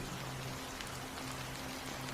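Steady, hissing rainfall patters continuously at moderate volume in Honkai: Star Rail, an even wash of drops with no pauses or voices.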